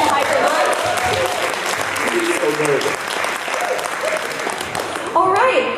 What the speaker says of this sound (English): can we give them another round of applause to hype them up?